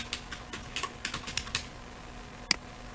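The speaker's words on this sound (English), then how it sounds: "and I want to type my name" Keys clatter on a computer keyboard in a short burst of quick, uneven taps over about a second and a half, then stop, with one last sharp keystroke after a pause; close and fairly quiet.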